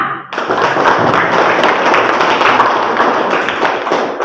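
Indonesian classroom students break into loud group clapping after a quiet start: a dense, close, sustained roar of many hands that keeps going evenly to the end.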